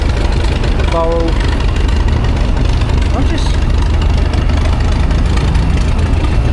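Steam traction engines, including John Fowler and Burrell machines, chug and rumble loudly at a steam rally at Welland, Worcestershire, a dense continuous mechanical din with a brief whistle-like tone, while someone talks over it.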